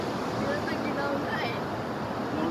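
Ocean surf at Coronado Beach, San Diego, at low tide, a steady broadband wash of waves with wind across the microphone, close and continuous for a couple of seconds.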